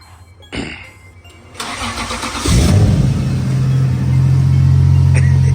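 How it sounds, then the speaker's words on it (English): Cold start of a Toyota Supra engine fitted with a custom exhaust: starter cranks, then the engine catches with a loud burst and settles into a deep, steady, rumbling idle close by. "he's gonna start it up and you know, see his reaction on it."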